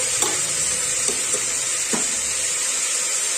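Chopped beans for a beans curry being stirred in hot oil in a pan, a steady sizzle with a few scraping strokes of the spoon, close and alone without talk.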